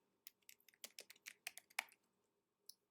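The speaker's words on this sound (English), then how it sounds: "and then type your name" A computer keyboard is typed on up close: a quick run of about a dozen crisp key clicks over two seconds, then a pause and one last tap, in a quiet room.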